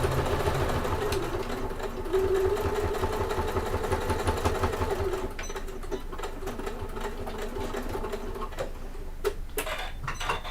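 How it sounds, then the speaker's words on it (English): A sewing machine runs continuously at a steady fast rhythm as it top stitches around a fabric convertible bag, loud and close, easing slightly in pitch midway and carrying on alone. "I've top stitched all the way around"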